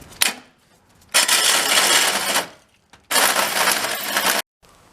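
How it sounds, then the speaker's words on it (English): A 3-inch metal hole saw bites into material in two long, loud grinding bursts of about a second and a half each, separated by short quiet gaps, with a few brief clunks around them. "I went and got a better 3-inch hole saw that's actually made from metal"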